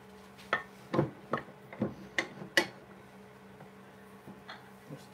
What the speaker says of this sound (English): Just getting some nice little gentle shavings off there